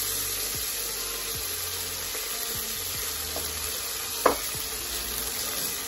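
Cumin seeds sizzle steadily in hot oil with asafoetida for a home-cooked vegetable dish, a close, continuous frying hiss broken by a few light clinks of stirring.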